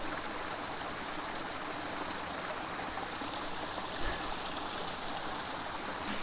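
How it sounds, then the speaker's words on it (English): Buntzen Creek flows in a steady, full rushing wash of water, constant and close, with no voices and only a brief low thump near the end. "this creek has been given the name of Buntzen Creek"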